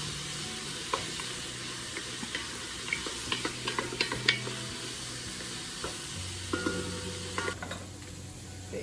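Vegetables with garlic simmer and sizzle steadily in a pan, a continuous hiss punctuated by small clicks and taps as the food is stirred, with no talking.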